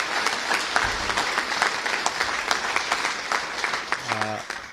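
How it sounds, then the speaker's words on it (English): Crowd applause at an outdoor "No Kings" protest rally in Chicago, dense steady clapping lasting throughout, with scattered cheers and voices mixed in and a brief tonal sound near the end. "Let's have a round of applause for Dustin Ramage."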